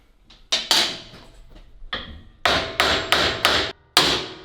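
A hammer strikes hard at a ball joint on an HQ Holden car subframe during teardown, giving about eight loud, sharp metallic blows at uneven intervals, close and alone.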